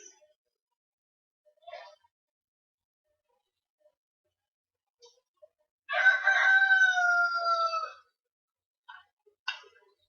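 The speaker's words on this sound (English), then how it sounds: "listening to the rooster crow" A single rooster crow rises clearly out of a quiet setting, lasting about two seconds, with a few faint clucks and taps scattered around it.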